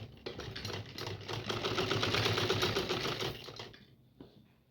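Sewing machine running steadily to top-stitch a trouser pocket, a fast mechanical whirr that builds and holds for a few seconds before winding down, close and alone.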